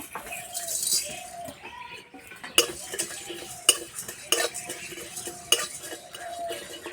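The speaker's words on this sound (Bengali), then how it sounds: "তার জন্য নিয়েছি গোলমরিচ, এলাচ, মৌরি, দুটো শুকনো লঙ্কা, জিরে আর গোটা ধনে, সব একসঙ্গে ভেজে নেব" Whole peppercorns, cardamom, fennel, dried chillies, cumin and coriander dry-roasting in a pan rattle and clink as a metal spatula repeatedly strikes and scrapes the pan in sharp, uneven bursts.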